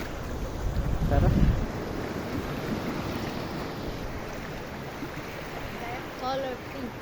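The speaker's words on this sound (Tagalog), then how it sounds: "Ayun o, lakas ang alon eh." Rough waves churning and breaking nearby at Morong, Bataan, mixed with gusty wind buffeting the microphone, with brief faint voices.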